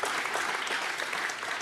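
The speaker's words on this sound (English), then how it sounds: "I'm used to being booed in the UK, so applause is very kind, thank you." A live audience applauds warmly during an interview event, steady dense clapping that fills the whole moment, close and fairly loud with no voices over it.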